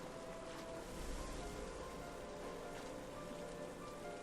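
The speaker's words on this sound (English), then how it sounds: "that's going to fill up the water here" Rushing water fills an area in the video game Rime, a steady, even wash of sound with no speech over it.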